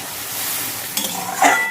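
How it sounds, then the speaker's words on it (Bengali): Mustard paste sizzles in a pan for a small khoira fish curry as a little water is poured in, a steady hiss that flares into brief louder splutters near the end; no talking. "এখন দিয়ে দেবো অল্প একটু জল"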